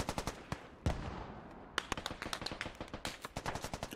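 Gunfire crackles through a tactical military shooter game, Squad, with many sharp rapid shots in irregular bursts, some close and loud, others more distant, echoing without talk.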